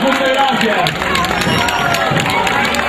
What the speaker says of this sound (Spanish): Fuerte el aplauso nuevamente para despedir a la comadre Verónica.